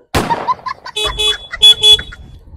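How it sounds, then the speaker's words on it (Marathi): A few short, blaring vehicle horn honks in quick succession at a petrol pump, following a burst of noisy clatter at the start. "मग धरून हॉर्न वाजवतोय"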